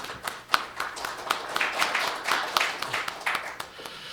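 Applause from a modest audience at a Korean academic presentation: scattered, fairly quiet individual claps in an uneven rhythm, fading after about four seconds.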